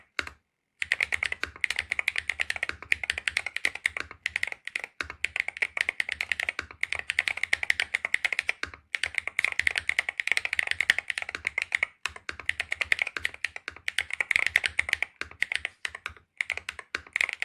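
Fast, steady typing on a 65% mechanical keyboard, close and crisp, a dense run of clacking keystrokes broken by a few brief pauses.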